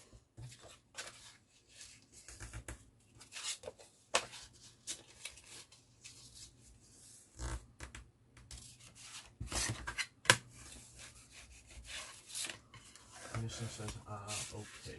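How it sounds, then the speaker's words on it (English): Paper pocket corners are mitered, folded and burnished, making faint, quick rubbing and scraping strokes close by in a quiet room. "I'm just going to miter those corners, and I'm going to fold and burnish them"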